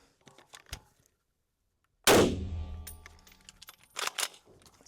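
A PWS UXR rifle fires one loud, close shot with a long ringing decay, followed by the clatter of the action cycling and ejecting.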